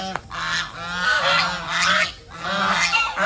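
A flock of farm geese honks loudly and nearby in repeated overlapping bursts, swelling and dipping in rough waves across the stretch, with no voices.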